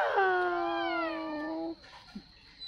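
A young child imitates a cat with one drawn-out, wavering meow heard up close. The call lasts under two seconds and is followed by near silence.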